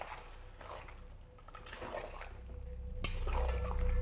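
Whisked sour yogurt is stirred into mutton curry in a pot, with soft wet squelches and scrapes, a few clinks of a spoon against the pot, and a low simmer swelling toward the end, without speech.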